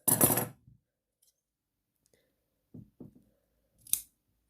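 Tailoring shears cut muslin fabric for a pocket set into a seam: a long crisp snipping slice at the start, then a few quieter clicks and short snips, close and with no talking.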